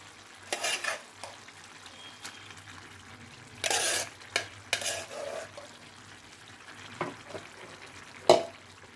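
A spoon stirs ground gongura leaves into a frying, spicy Andhra-style dry prawn curry in a pan, giving intermittent scraping bursts over a soft background sizzle, with a few sharper clinks near the end.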